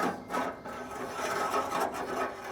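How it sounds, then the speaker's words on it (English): Metal auger of a Camp Chef Apex pellet grill scraping and rasping as it is drawn out of its tube, a steady close grinding rub of metal on metal with slight surges over a couple of seconds. "we're just going to grab a hold of the auger"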